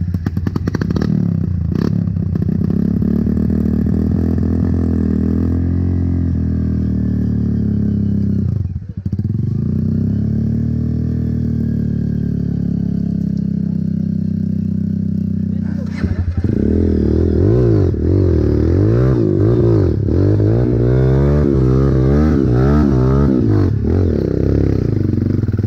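Trail motorcycle engine on a dirt trail, revving and sputtering close by with clatter and scrapes, a dip in the middle, then rising revs with voices talking over it.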